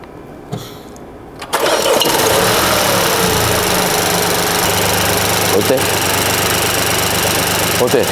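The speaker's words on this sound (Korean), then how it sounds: "시동 좀 한번 걸어줘." A used Mini's engine cranks and catches after a pause, then settles into a loud, steady idle close by, with a brief knock early in the run.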